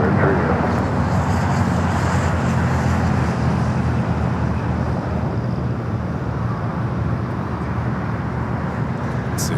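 A British Airways heavy jet landing at LAX roars steadily and broadly, a sustained loud engine wash with wind-like rush that barely varies across the span, no voices heard.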